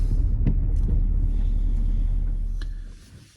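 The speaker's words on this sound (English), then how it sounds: "Got a little rattle at the front there." A 2002 Honda Jazz Sport SE drives along with a low, steady road rumble and cabin drone, a few light ticks and taps from a rattle at the front, and the noise fading toward the end.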